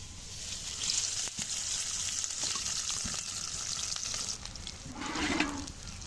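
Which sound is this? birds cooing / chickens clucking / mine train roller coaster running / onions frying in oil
onions frying in oil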